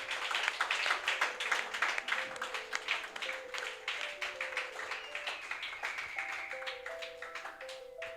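A church congregation claps and cheers loudly, acclaiming the Lord, in a dense, sustained burst of clapping with a few held musical tones underneath.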